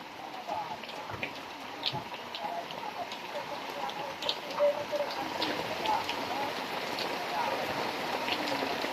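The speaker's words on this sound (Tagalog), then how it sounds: "Lalo lumalakas ang ulan" Heavy rain falling steadily during flooding, a dense continuous hiss with scattered drops and patter, moderately distant, with faint voices beneath.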